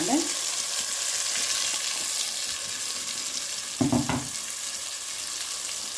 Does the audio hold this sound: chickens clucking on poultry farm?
no